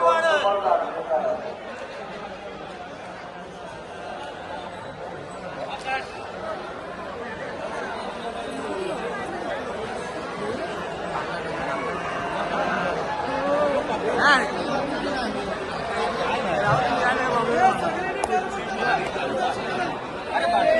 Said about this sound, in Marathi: आज रविवार आहे त्यामुळे गर्दी खूप आहे